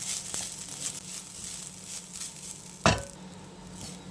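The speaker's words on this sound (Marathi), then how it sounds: "हा आपला छान असा मंद गॅसवर दोन मिनटं परतून घ्यायचा" Grated coconut sautéing in ghee in a pan over a low gas flame gives a faint, steady sizzle, with a single sharp clink of a utensil against the pan partway through.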